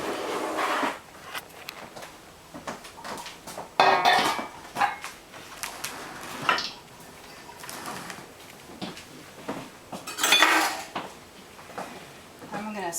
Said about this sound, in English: I'm going to serve up a bowl of our easy crawfish bisque.